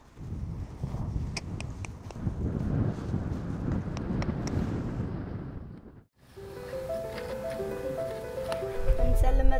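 Desert wind in Oman buffets and rumbles across the microphone in strong gusts for about six seconds, then cuts out abruptly as a different, calmer scene with voices begins.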